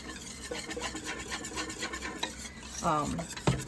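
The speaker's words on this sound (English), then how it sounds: "So you got your butter and you got your flour. And you're just going to keep mixing it." Butter and flour roux being stirred in a pan, with soft scraping and swishing strokes repeating close by and a couple of sharper utensil knocks near the end.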